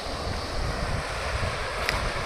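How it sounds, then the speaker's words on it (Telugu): Fast-flowing water rushes through the Gandikota tunnel in a steady, full roar. It is close and continuous, with some wind buffeting on the microphone. "వినిపిస్తుందా మీకు వాటర్ సౌండ్?"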